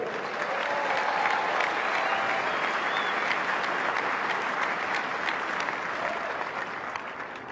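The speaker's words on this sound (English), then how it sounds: "They deserve a huge round of applause." A large crowd at a tennis trophy ceremony after the Indian Wells final applauds steadily, a dense, sustained wash of clapping that stays even and fills the space for several seconds before easing slightly.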